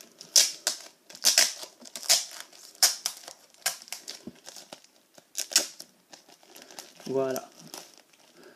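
A Pokémon XY commemorative card pack is opened by hand, its foil wrapper crinkling and tearing in bursts across the clip, close and fairly loud, with someone talking between the rustles.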